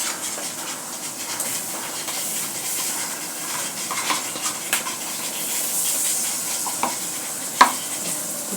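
Garlic and ginger paste sizzles softly in a pan while being stirred, with scattered scrapes and a sharp clack near the end, steady and close.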